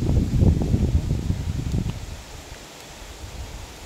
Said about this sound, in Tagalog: Kaso nga lang, lakas ng hangin dito.